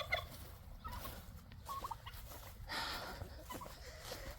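Backyard chickens fed green tomatoes in a garden after a storm make soft, scattered clucking and gobbling calls at a distance, faint against low outdoor rumble.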